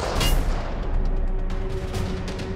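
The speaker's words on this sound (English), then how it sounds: "is that rifle work over there?" Rifle gunfire in a thriller movie scene: a quick burst of sharp cracking shots over a dense rumbling backdrop, loud and close, with no speech.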